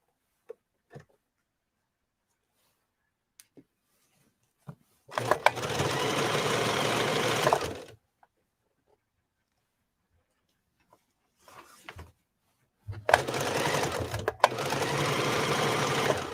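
Sewing machine stitching a furry coat, running in two steady loud bursts of a few seconds each, separated by quiet pauses with small clicks and handling noises, no talk.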